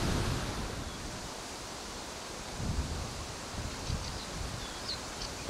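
Steady, cold wind buffets and rushes outdoors on a shore, a broad continuous hiss with a few soft gusts and thumps against the microphone.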